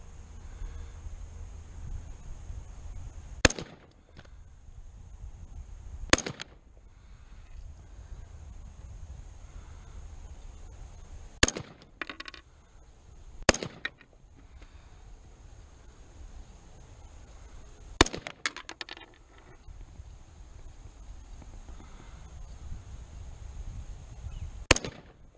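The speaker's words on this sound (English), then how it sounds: "I'm just shooting those orange clays over there." Rifle shots aimed at orange clay targets on an outdoor range: about six or seven sharp, isolated cracks spaced seconds apart over steady wind noise, with a couple of shots in quick succession.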